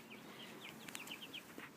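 Young meat chickens in a brooder box give soft, high chirping peeps in a quick scattered series, faint and close against a quiet background hiss.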